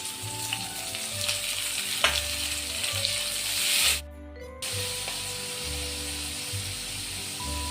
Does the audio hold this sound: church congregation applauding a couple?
no